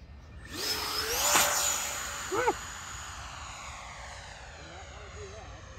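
A Freewing B-2 Spirit RC bomber makes a touch and go on its maiden flight, its electric ducted fans whining and rising in pitch as it passes nearby, then fading, with a faint sound of wheels touching down.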